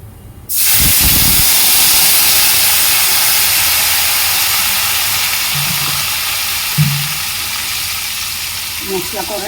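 Nigella seeds drop into hot oil for a spicy pointed-gourd curry, setting off a sudden loud, close sizzling hiss that sustains and slowly eases, with faint brief sounds near the end.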